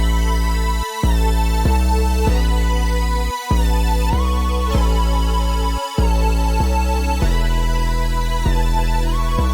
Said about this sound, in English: So the melody, chords and the 808s together are going to sound like this.